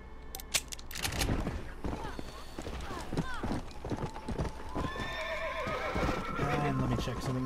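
A horse in the Red Dead Redemption video game whinnies and gallops with quick clip-clop hoofbeats, loud and close, with someone talking over parts of it.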